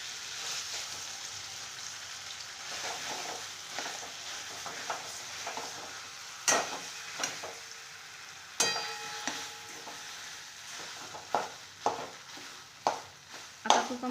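Khoa fries in hot ghee in a kadhai with a soft continuous sizzle, broken by sharp scraping and stirring knocks that come more often toward the end.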